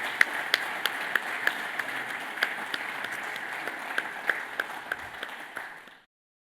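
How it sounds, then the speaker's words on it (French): Audience applause at a French amateur football federation label awards ceremony for the SS Brumat club, a steady crowd patter with a few sharper individual claps, moderately near, fading out at the end. "bien évidemment, applaudir la SS Brumat"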